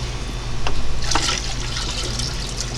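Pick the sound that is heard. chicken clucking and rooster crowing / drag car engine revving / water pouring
water pouring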